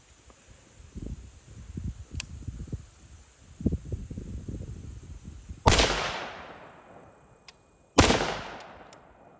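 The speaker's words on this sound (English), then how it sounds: "We're going to be shooting some Hornady steel case training ammo, 75 grain hollow point." Two loud, sharp gunshots of Hornady steel-case 75-grain hollow-point training ammunition, fired at 50 yards into ballistic gel, crack a couple of seconds apart with ringing decay, after softer rustling and handling noises.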